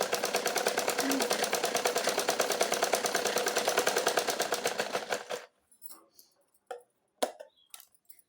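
A sewing machine stitches a plain blouse, running in a fast steady mechanical rattle for about five seconds before stopping, followed by a few faint scattered clicks and taps.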